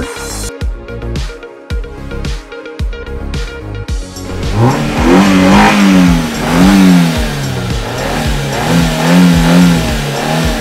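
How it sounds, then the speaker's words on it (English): A car engine revs and accelerates loudly with rising and falling pitch, following a few short sharp knocks, and sustains as a close, continuous roar to the end. "car."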